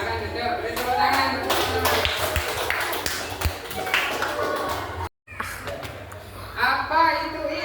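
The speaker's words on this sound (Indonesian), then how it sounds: "Beri tepuk tangan." Students in a classroom break into scattered, uneven clapping with taps and a few laughs, while voices talk over it, the clapping briefly cut off before resuming.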